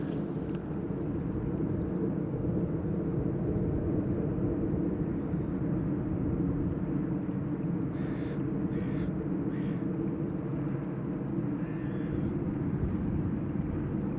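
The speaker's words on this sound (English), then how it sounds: "Next up, Aeromexico flight 25, 7879 Dreamliner arriving from Mexico City." An Aeromexico Boeing 787-9 Dreamliner arrives at Amsterdam Schiphol, a steady low engine rumble at a distance with a few crow caws cutting in.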